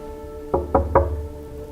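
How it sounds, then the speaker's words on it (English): Three sharp knocks on a door in quick succession at night at a camping spot, close and distinct over a quiet background with no talking. "I have to knock."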